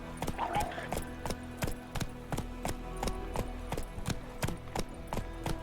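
Roach, the horse in The Witcher 3, trotting with steady, evenly spaced hoof clip-clops, close and rhythmic, with someone briefly talking over the hoofbeats.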